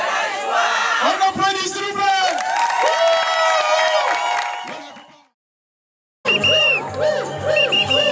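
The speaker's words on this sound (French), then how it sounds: "On applaudit s'il vous plaît." Wedding guests at a Gabonese customary wedding cheering, shouting and whooping loudly as a crowd, a dense burst of voices that cuts off abruptly into silence before the cheering resumes.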